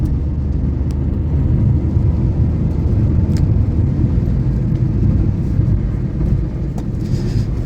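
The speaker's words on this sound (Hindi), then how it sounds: "ये फ्लाईओवर है, तो यहाँ हम लोग गाड़ी को अच्छे से भगाते हैं।" A Tata Tiago car driving fast along a highway flyover produces a steady low road-and-engine rumble with wind noise, loud and constant, with no one speaking.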